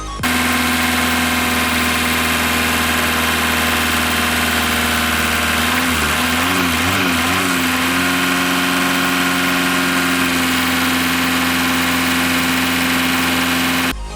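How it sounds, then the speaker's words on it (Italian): A camper van engine idles steadily and loudly, revs up briefly a few times in the middle, then settles back into a constant idle, during a home service. "si accende il motore, si danno 2-3 belle accelerate"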